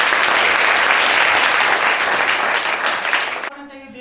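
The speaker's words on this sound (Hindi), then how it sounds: "इनके लिए तालियां भाई" Loud, dense applause from the crowd at a coaching centre's anniversary celebration, steady throughout, then cutting off abruptly to near silence.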